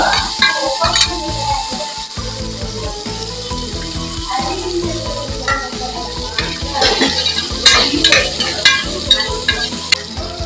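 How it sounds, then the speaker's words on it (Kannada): Ingredients fry lightly in oil for a village-style chicken curry, giving a continuous crackling sizzle with scraping stirs and clinks of a utensil against the pan, close and busy throughout, with no talking. "ಇದನ್ನ ಲೈಟಾಗಿ ಆಯಿಲಲ್ಲಿ ಫ್ರೈ ಮಾಡಬೇಕು."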